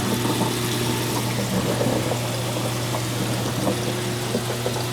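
Steady running water trickling and splashing down a pipe in a 220-gallon saltwater reef tank under a constant low pump hum, continuous and moderately close.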